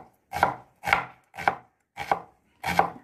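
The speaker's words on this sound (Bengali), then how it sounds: "ওইদিকে ইন্দ্র আলু কাটছে।" Knife chopping potatoes on a board in a home kitchen while cooking Bengali chicken kosha: five distinct, evenly spaced cuts, close and fairly soft, with no talk.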